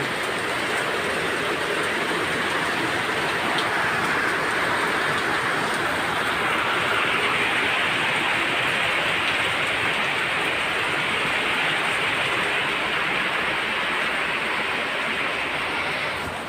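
Steady rain falls continuously, a dense even hiss with no breaks and no voices.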